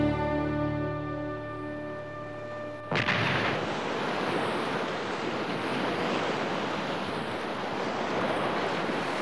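A cartoon ship's cannon fired in an animated tale about Columbus-era explorers: a sudden heavy blast cuts off a held musical chord, followed by a long roaring rush like wind and surf, with no talking.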